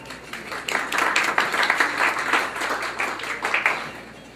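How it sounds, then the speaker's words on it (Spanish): A conference audience applauds a speaker introduced before a talk on generic medicines, giving a moderate, slightly uneven round of clapping with distinct individual claps that rises and tapers over about four seconds. "Un aplauso para Juan Cruz"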